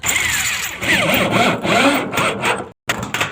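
Power drill driving a Tex screw into a corrugated metal roofing sheet, a loud continuous whirring grind with rising and falling strain that cuts off briefly near the end before resuming.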